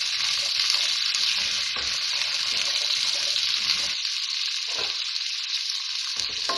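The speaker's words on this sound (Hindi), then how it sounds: "बस 2 मिनट के लिए इसको फ्राई करना है, फिर मैं निकाल लूँगी।" Vegetables fry in hot oil for a dhaba-style mixed veg masala, giving a steady bright sizzle with crackling and brief stirring sounds, loud and close, with no talk.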